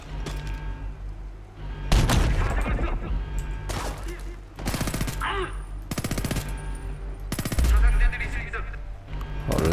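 Bursts of player gunfire in the shooter Homefront: The Revolution, loud and close, with several rapid automatic volleys separated by short pauses over a busy game soundscape.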